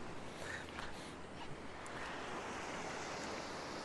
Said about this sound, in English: There's lots of waves.